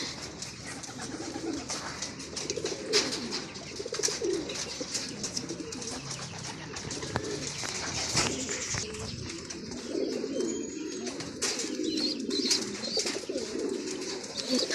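Racing pigeons coo softly and repeatedly around a loft, with a few chirps and a flutter of wings, all fairly faint and without speech.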